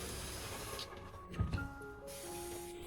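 Water is sprayed onto orchid leaves, making a close, continuous hiss from a spray bottle with a brief soft squish partway through, and no voices.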